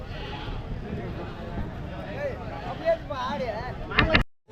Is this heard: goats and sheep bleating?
yes